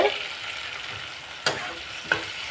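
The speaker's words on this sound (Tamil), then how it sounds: "நல்லா வதங்கட்டும் தக்காளி" Tomatoes sauté in a pan for a dry fish thokku, giving a steady low sizzle with two brief sharp scraping or stirring clicks near the end, close and without speech.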